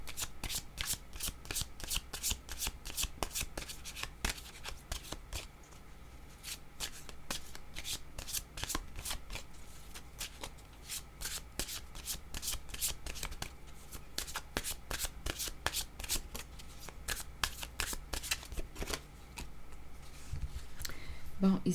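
Tarot cards shuffled by hand in a rapid, continuous riffle of crisp flicks and slaps, close and steady throughout, with soft voice in the background.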